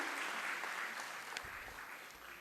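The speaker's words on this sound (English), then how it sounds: "I think he deserves a strong applause." Faint applause from a research showcase audience in a hall, a soft, distant hiss of many hands clapping that fades over about two seconds.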